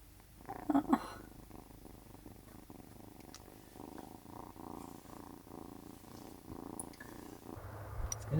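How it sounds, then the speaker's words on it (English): A cat purrs softly and steadily inside a van, a faint low rhythmic rumble lasting several seconds, with a couple of brief louder bumps near the start and some handling noise at the end. "Purring"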